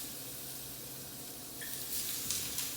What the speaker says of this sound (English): We're gonna hear a nice sizzle.